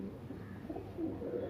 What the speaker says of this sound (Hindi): ये छोटे हड्डी का कबूतर है।